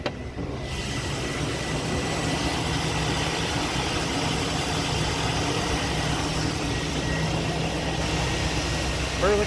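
A 2003 Chevy Tahoe, a two-wheel-drive SUV, settles into a steady idle right after start-up, with a low, even engine rumble running throughout at close range.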